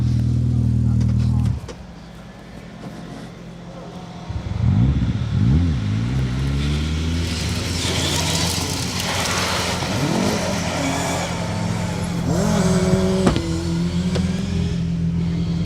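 A loud rally car engine roars past on a gravel stage of the 2025 RAC Rally, revving hard and shifting through gears with gravel spray, while a voice talks intermittently over it.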